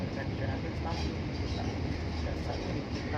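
A passenger train, the Kahuripan bound for Blitar, rumbles past close by, a steady low roar with rattling wheels filling the whole stretch, with voices faintly audible underneath.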